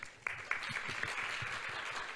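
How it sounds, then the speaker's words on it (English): Audience applause for a panel of speakers at a discussion event: a dense, steady round of clapping with a few sharper claps standing out, moderately near and continuing throughout. "a big round of applause to all the panelists"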